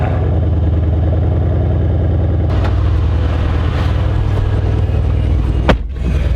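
A Mercedes C63 idles with a loud, steady, deep burbling rumble close by, the tone lifting slightly partway through before a brief knock near the end.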